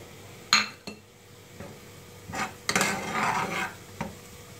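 Cumin seeds go into a cooking pot of softened onions for a beef and potato curry, with a couple of sharp utensil clinks followed by a brief close sizzle and scraping.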